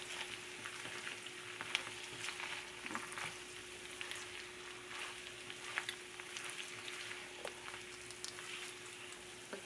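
Potatoes mixed into sizzling chorizo in a pan, a quiet, steady frying crackle with occasional soft stirring scrapes and a faint constant hum.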